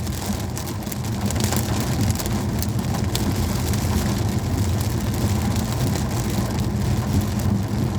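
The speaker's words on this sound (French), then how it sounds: "Là, je suis pile poil dans l'orage." Heavy thunderstorm rain drums hard and continuously on a moving car, with low road rumble beneath the steady patter, on quiet country roads in Normandy.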